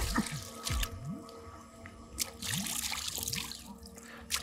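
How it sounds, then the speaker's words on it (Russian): Water sloshes and splashes inside a PlayStation VR2 game, with drips and irregular plopping movements close by in short bursts, alone with no talking. "вот так вот по воде делаешь, и в воду слышно, как вода плюхается туда-сюда"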